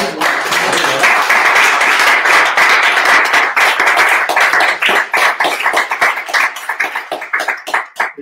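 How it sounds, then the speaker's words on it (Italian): Audience applause closing an evening talk about roller skiing, dense steady clapping from many hands that thins into scattered claps toward the end. "O chiudiamo in bellezza con un bel applauso."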